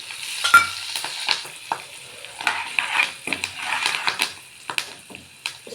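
Asafoetida, turmeric and curry leaves, added with Byadagi chilies, fry for puliyogare with a soft sizzle and scattered stirring scrapes and taps of a spoon in the pan.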